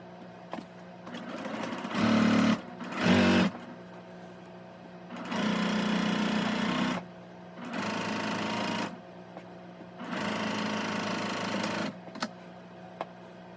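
A sewing machine joins quilt rows together in several steady runs of motor hum and needle chatter, each lasting a second to two, separated by short pauses, loud and close with no talking.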